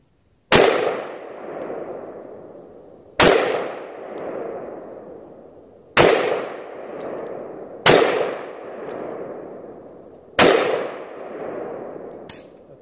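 An AK-47 rifle fitted with a Definitive Arms fighter brake fires five loud, sharp single shots a few seconds apart outdoors, each followed by a long decaying echo, with no talking.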